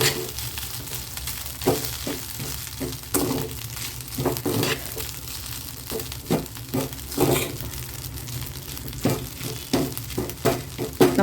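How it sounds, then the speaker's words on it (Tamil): A spoon scrapes and stirs ragi semiya upma in a hot pan, with soft sizzling under irregular scraping strokes and clinks at close range, continuing unevenly. "கிண்டி விட்டுலாம்."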